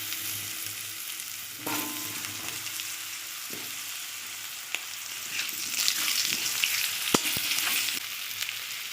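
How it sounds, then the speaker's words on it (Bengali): Potatoes fry in hot oil with a steady hiss and sizzle, broken by scraping stirs and a few sharp clicks of a utensil against the pan, growing louder toward the end. "আলুটা আমি আগে হালকা করে ভেজে নিই"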